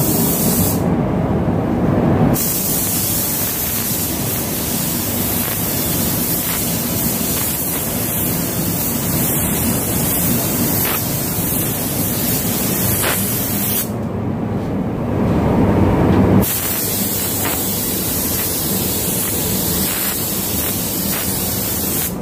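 Steady, loud hiss of a spray gun painting a Suzuki Katana motorcycle in Xyralic green, continuous for the whole stretch apart from two brief pauses.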